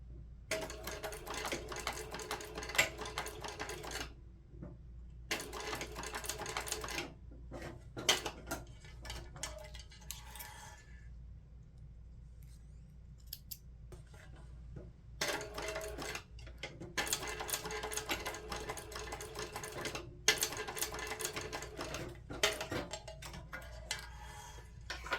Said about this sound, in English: So I'm going to drop my needle right into the line of stitching